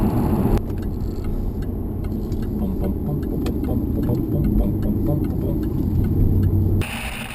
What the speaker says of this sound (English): You know, you can even get this car with a sport-tuned exhaust. This exhaust is the standard exhaust, which is nutty.